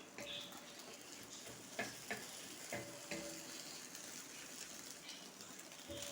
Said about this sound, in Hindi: इस तरह से थोड़ा मोटा अंडा हमने फ्राई करना है